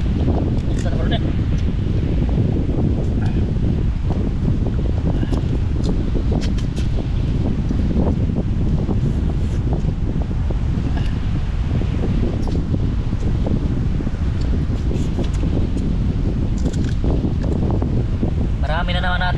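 Strong seaside wind roars steadily and loudly against the microphone, with buffeting gusts and rumble throughout, while people talk intermittently underneath.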